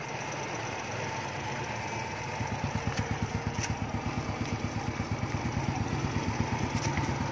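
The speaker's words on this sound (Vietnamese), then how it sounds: "Bịt luôn cái bô thì anh em có nghe được tiếng không?" Small Thai Wave-style motorcycle idling in gear with its exhaust pipe blocked off, giving a soft, steady rapid putter that grows slightly more pronounced partway through, close by and without talk.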